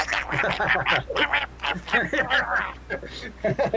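A person imitates Donald Duck with a run of raspy, nasal quacking sounds that come quickly one after another, close and loud.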